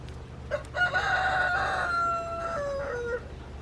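A rooster belts out one full crow, loud and close, rising and then trailing off, over a faint background murmur.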